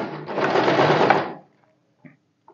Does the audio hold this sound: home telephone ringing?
no